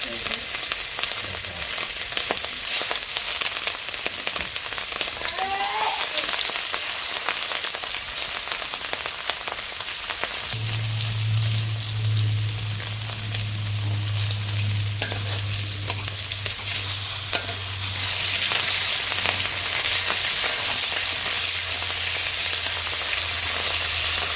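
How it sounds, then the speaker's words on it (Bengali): Small fish fry in hot oil in a village kitchen, producing a loud, steady, dense sizzle that fills the whole stretch, joined midway by a low steady hum, with no talking. "তেল গরম হয়ে গেছে এখন মাছগুলো দিয়ে নেই"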